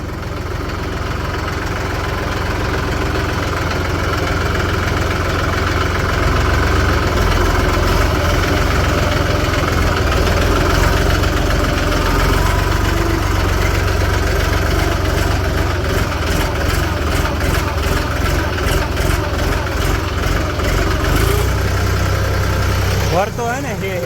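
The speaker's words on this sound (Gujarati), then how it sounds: "કેમ ભાગે સ્મૂથલી જાય ને ટ્રેક્ટર." A new tractor's engine runs steadily, a loud mid-to-low idling drone with a rattling, knocking texture, while a person talks over it.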